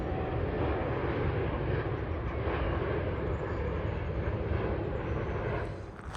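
A Singapore Airlines airliner descends toward Tullamarine airport, its broad, steady engine roar filling the whole stretch at even loudness before easing slightly at the end, with no voices over it.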